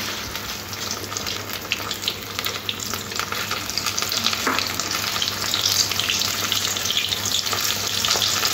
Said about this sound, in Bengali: বাকি যে চিংড়ি মাছগুলো আছে একই প্রসেসিংয়ে লাল লাল করে ভেজে নিতে হবে।